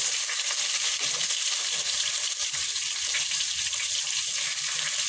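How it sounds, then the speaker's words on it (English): Red onions dropped into hot oil in a home kitchen sizzle and hiss loudly and evenly for several seconds, a continuous bright frying crackle with no voices. "So my oil is hot. I'm going to just add in my red onions"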